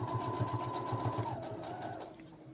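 A sewing machine stitching a face mask seam runs in a steady whirring rattle, then its motor pitch drops briefly as it reverses for a back stitch before winding down.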